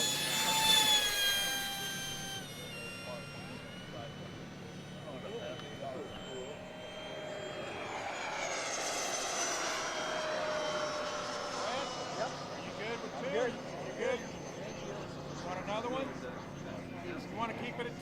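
A carbon fiber micro EDF sport jet flies overhead, its electric ducted fan whining loudly and sweeping in pitch as it passes, then fading. Voices talk nearby.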